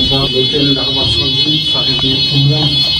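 A hotel fire alarm in Paris sounds at 3 a.m. during an evacuation, a loud continuous high-pitched electronic tone droning steadily while a person talks over it.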